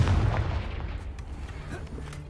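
Confringo spell explosion in Hogwarts Legacy, a deep close boom that strikes loud at once and then rumbles and fades over about two seconds.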